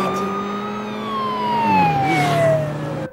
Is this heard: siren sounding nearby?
yes